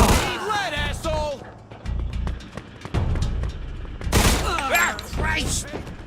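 Gunfire in the video game Mafia 2, with sharp bursts of shots and impacts between shouting voices, loud and close with a heavy barrage near the end.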